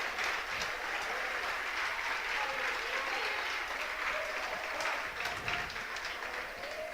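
Sustained, even applause fills a church as the congregation claps together for several seconds, a little distant and quiet, with scattered voices underneath.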